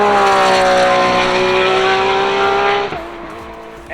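Formula D drift car screaming at full throttle nearby, a loud sustained engine wail with tire squeal that drops off sharply near the end.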